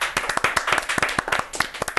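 Studio audience applause for a contestant on a quiz show, a steady run of crisp, rhythmic hand claps at moderate volume with no talk over it.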